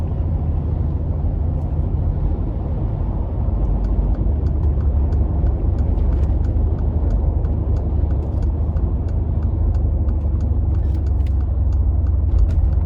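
A 2015 Mercedes-Benz G63 G-Wagon cruises along, its engine and road noise forming a loud, steady low drone inside the cabin with faint ticking clicks above it throughout.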